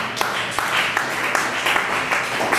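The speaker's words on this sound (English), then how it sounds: "You guys should clap it up for me." A comedy club crowd claps for a comedian, a loud, dense patter of hands at close range with a few sharper individual claps standing out, lasting the whole few seconds without talk.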